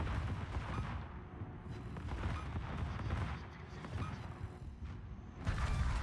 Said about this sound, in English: Gonna bring those forward turrets into action here.